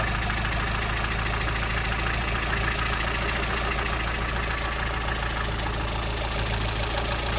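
A classic Mini car engine idles steadily during ignition timing adjustment, a loud continuous rumble with an even, slightly knocking pulse throughout and no talking.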